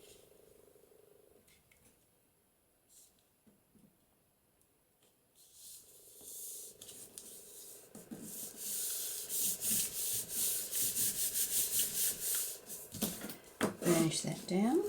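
Paper is burnished down onto a junk journal page with repeated rubbing, scraping strokes. They start faint and grow louder and denser in the second half after a mostly quiet opening.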